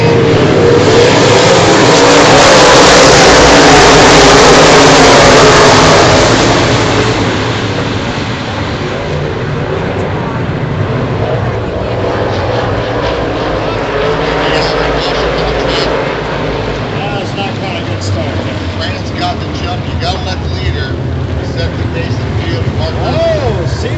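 Credit King modified race cars roar around a speedway oval during a feature race, a loud, dense engine wash that swells early and then settles into a steady pack drone, with an announcer talking over it.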